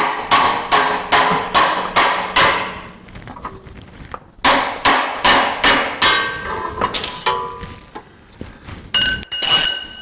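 Hammer tapping on a part of a 2002 GMC 2500 truck with a 6.0 engine, a run of sharp metallic strikes in quick even rhythm, a short pause, then another series of close, loud blows ending in ringing clinks.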